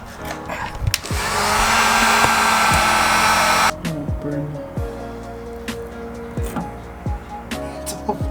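A heat gun blows hot air onto a car emblem on a G35 to loosen it, a loud airy roar for a few seconds that cuts off abruptly, with sharp clicks and a voice speaking.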